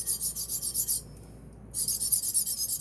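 A blade edge rubbed back and forth on a Vermont green slate stone, producing rhythmic bright rasping strokes, close and fairly loud, with a brief pause in the middle before the strokes resume.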